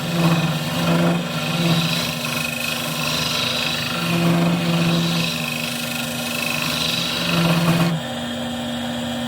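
A power drill bores into a vase with a steady motorized whine and low hum throughout, rising and easing slightly, then cuts to a quieter drone near the end; no one speaks.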